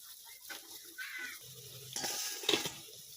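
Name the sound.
frying lentil paste fritters in oil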